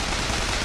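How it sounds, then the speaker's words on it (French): Sustained automatic gunfire from a machine gun aimed at a Patriot enemy in BioShock Infinite, a dense, unbroken burst of loud shots filling the whole moment with no talking. "Juste mitrailler ce patriote jusqu'au bout"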